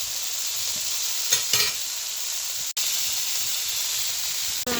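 Banana stem frying in a pan tempered with bay leaf, dried chilli and five-spice, giving a steady close sizzle with a few brief stirring scrapes and clicks.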